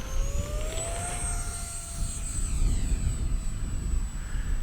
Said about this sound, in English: I'm going to put the jet down there